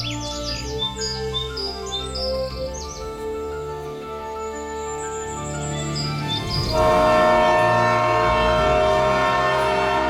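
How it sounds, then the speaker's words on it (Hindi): A cartoon train pulls into New York City with a continuous rumbling roll and sustained horn tones that swell louder near the end, with bird chirps high above at first. "दूसरी तरफ ट्रेन न्यूयॉर्क सिटी पहुंच जाती है।"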